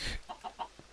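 Chickens in Minecraft give a short burst of noise followed by three or four quick, soft clucks, close and faint, with no talk.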